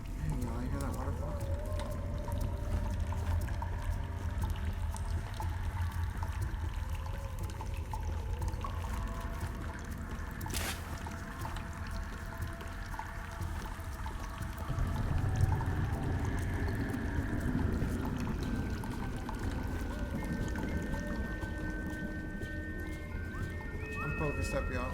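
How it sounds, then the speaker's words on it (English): Waterfall in the Choo Choo Charles horror game, a steady broadband rushing and splashing that runs throughout at moderate level, with voices talking over it at times. "Hey, y'all, you hear that waterfall?"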